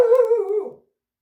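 Roxy the dog lets out a single short howling bark that wavers and fades away within a second, close and clear, followed by silence.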